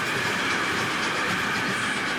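A train rolls past with a dense, rumbling rattle and faint rhythmic clatter of wheels on track, loud and continuous throughout.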